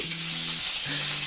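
Curry leaves hit hot oil after cumin in a pan for kande pohe, giving a soft, steady sizzle with a faint tonal hum underneath, heard close and alone.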